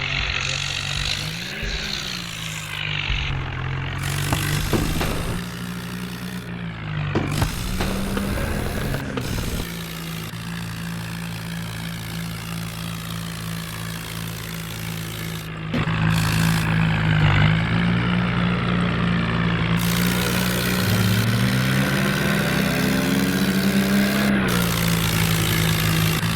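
A John Deere tractor engine runs steadily at close range, a loud continuous diesel drone with a few shifts in pitch as the revs rise and settle.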